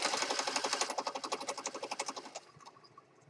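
A sewing machine runs at speed with a rapid, regular mechanical chatter of stitches, close and clear, then slows and stops near the end.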